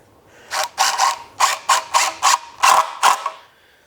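A power driver sinks 2-inch screws through a basement insulation X-bracket into a 2x4 in about eight short, loud, close whirring bursts with brief gaps between them.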